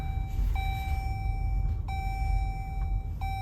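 Steady electronic beeping from a Jeep Grand Cherokee L Summit Reserve, a clear tone chiming three times with short breaks, over a constant low hum of the vehicle's smooth ride.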